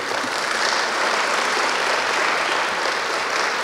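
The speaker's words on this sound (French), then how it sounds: "Je pense que nous pouvons l'applaudir très fort." An audience at a seminar for women in the maritime and port sector applauds a minister, a loud, even roar of many hands clapping that holds steady for the whole stretch.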